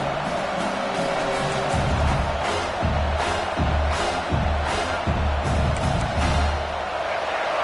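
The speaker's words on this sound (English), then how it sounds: "This crowd, full throat, splitting the eardrums and letting them know it's going to be a long day." A packed football stadium crowd at Michigan State at Washington roars steadily, a dense, loud wall of noise with rhythmic low thumps rising and falling throughout.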